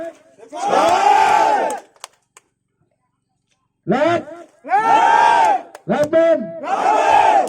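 A crowd at a regional government gathering in Papua roars back in agreement with loud collective shouts, several bursts separated by a short silence, voices merging into a chanting cheer.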